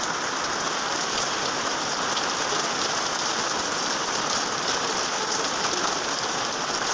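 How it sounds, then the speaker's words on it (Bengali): A downpour of heavy rain drums steadily and loudly on nearby surfaces, a constant close hiss of countless drops with no talking. "সকাল ধরে বৃষ্টি হচ্ছে আমার এখানে"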